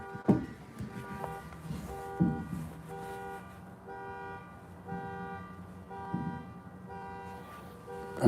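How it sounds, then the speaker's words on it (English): A car alarm sounds at a distance outdoors, cycling through repeated tonal honks and chirps in a steady pattern, with some traffic noise underneath. "y'all hear that car alarm?"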